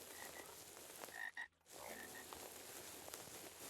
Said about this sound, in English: Weird sounds from the frogs. Burping noises.